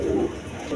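Pigeons of a fancy breed, kept for sale, give a single soft, low coo close by, heard alone with no talking.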